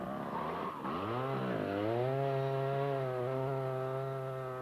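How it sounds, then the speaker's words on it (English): A large five-foot chainsaw carves a piece of redwood, its engine rising in pitch and then holding a steady, loud, close whine throughout with no talking. "uses a 5-foot chainsaw to give the wood the desired form"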